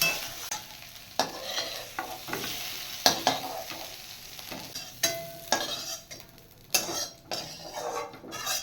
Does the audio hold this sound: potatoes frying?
yes